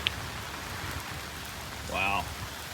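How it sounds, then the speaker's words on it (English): Heavy rain pours down in a steady, dense hiss that holds evenly throughout, with a brief voice-like sound rising near the end. "But when it rains like this, it's got to go somewhere."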